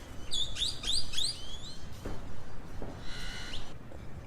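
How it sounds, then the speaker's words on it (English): Two grackles fighting outdoors in Mexico, giving sharp rising whistled calls in a quick series, then scattered rustles and a harsher buzzy call, fairly close with no talk. "Two fighting grackles."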